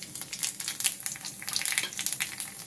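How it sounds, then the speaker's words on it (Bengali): Black cumin seeds sizzling in hot oil in a wok that was just used for frying small fish, a dense crackling spatter with rapid pops, close and continuous with no talk. "ওই কড়ার মধ্যে আমি কিছু কালো জিরা দিয়ে নিচ্ছি"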